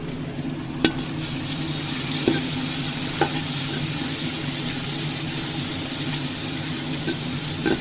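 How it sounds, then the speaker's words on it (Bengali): An egg fries in a pan with onion and ginger-garlic paste while a veg biryani is being made, giving a continuous sizzle broken by a few sharp stirring scrapes, close up. "ডিমটাও এর মধ্যে আমি দিয়ে দিলাম একসঙ্গে ভেজে তুলে নেবো"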